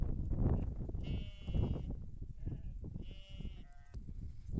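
Several sheep and lambs bleat in overlapping, wavering calls at a village highland pasture over a low, rumbling background, close and fairly loud.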